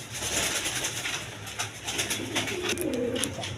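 Pigeons of a good breed cooing at a pigeon sale, soft low burbling calls repeating over a busy background hum, fairly faint and without speech.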